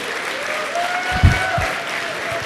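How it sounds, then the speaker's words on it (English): Light applause from a seated audience at a tech talk, a brief polite patter of clapping that peaks around the middle and fades, with a steady hum underneath. "a respectful golf clap was what I was looking for"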